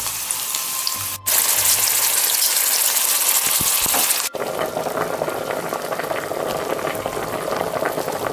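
Onions browning in a frying pan for a tomato sauce with plantains and okra give off a loud, steady sizzle and bubbling that breaks off twice for a split second before carrying on.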